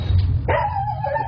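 A single short dog bark, fairly close, followed by a faint whining tail, over a low background hum.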